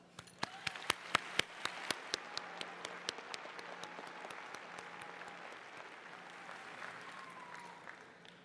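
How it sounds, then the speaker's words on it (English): Applause rises from a crowd at a high school graduation commencement ceremony, sharp claps loudest at first, then settling into a steadier, thinner patter of clapping across the hall. "Please join me in a round of applause."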